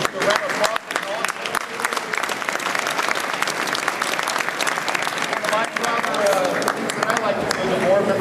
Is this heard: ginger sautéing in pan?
no